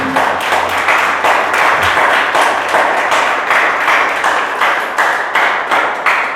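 A church congregation claps in a steady, even rhythm, loud and close, with sharp beats repeating about twice a second for several seconds and no talking over them.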